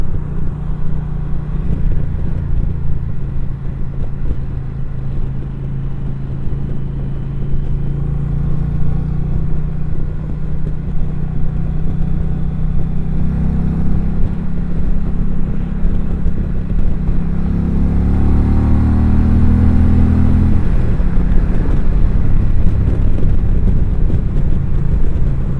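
A 2020 Indian Challenger motorcycle cruising in sixth gear, steady low engine drone buried under heavy rushing wind noise, with a slight rise in pitch late on, no speech.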